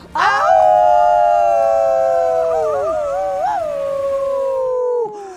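A wolf howl from the Mobile Legends video game rises sharply and holds a long, loud, wavering tone for about five seconds before cutting off, clear and alone.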